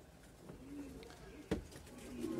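Racing pigeons in a loft coo softly in low, rolling calls, close by and quiet over a faint background, with a sharp knock partway through.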